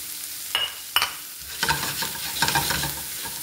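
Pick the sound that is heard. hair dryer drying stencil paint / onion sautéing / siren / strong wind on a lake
onion sautéing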